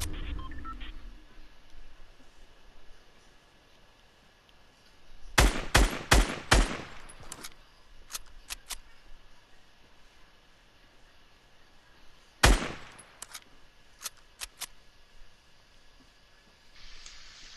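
Gunfire in a Fortnite Battle Royale match, a quick burst of crisp shots followed by scattered single shots and another sharp shot later, over a quiet game-ambience hum with no talk.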